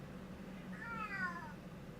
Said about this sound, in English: You can hear my cat Yarpy complaining